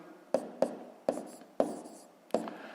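Pen or pencil strokes writing numbers by hand during a fifth-grade math exercise, five short scratchy bursts at an uneven pace, close and fairly quiet with no talking.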